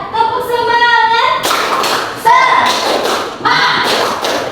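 Students in an Indonesian classroom do the 'tepuk semangat' rhythmic clap, short bursts of thuds and claps, with group voices chanting along between and over the claps.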